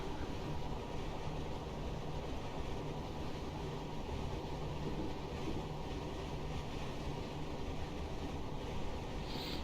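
Class 455 electric multiple unit train in Train Simulator Classic, running on the Guildford to London Waterloo line, gives a steady, continuous rumbling drone with broadband rail noise that stays even throughout and is heard alone, without talk.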